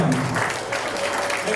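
Audience clapping and cheering at a taekwondo belt presentation ceremony in Sunnybank, a steady dense wash of applause with voices mixed in throughout.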